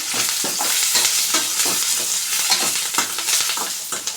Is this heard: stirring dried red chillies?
yes